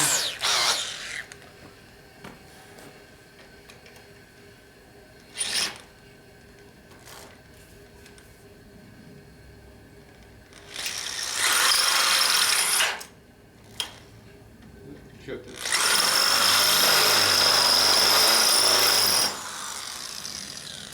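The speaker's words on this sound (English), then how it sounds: "That fits my drill motor just fine." Bursts of a drill motor whirring and grinding as it reams metal on a 1958 Harley-Davidson Panhead engine rebuild, starting and stopping, with quiet gaps and clicks between the longer runs.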